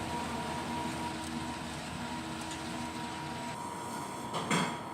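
Printer wiping its print head after a head cleaning, a steady mechanical whir with faint sliding and a brief scraping clunk near the end.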